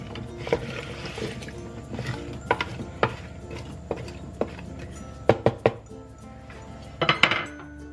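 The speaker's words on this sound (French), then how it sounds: "Je vais mélanger." A mixture of water being stirred in a pot, with scraping and light knocks of the utensil against the pot in an irregular rhythm, fairly quiet and without talk.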